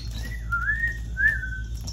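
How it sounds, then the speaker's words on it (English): Someone whistles two short rising and falling notes indoors while making pie dough, clear but fairly soft over a low background hum. "Anytime you hear something that sounds like a whistle"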